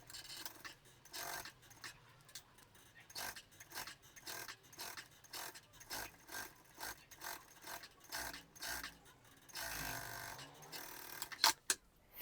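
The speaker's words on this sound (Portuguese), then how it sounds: "Já vou costurar aqui na outra parte também, que eu já deixei ele posicionado." Up close, a sewing machine stitches a glasses organizer, with a steady rapid mechanical clatter pulsing in short runs, then a brief pause and a few clicks at the end.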